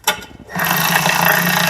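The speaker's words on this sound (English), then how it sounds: "At this point I can go ahead and start threading in my bolts." A tool spins bolts into the oil pan of a BMW N20 engine, starting with a few clicks and clatter before a loud, steady mechanical whir takes over at close range.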